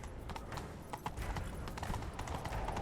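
Horse galloping in The Witcher 3, rapid rhythmic hoofbeats pounding steadily and close throughout, with a low rumble of game ambience beneath.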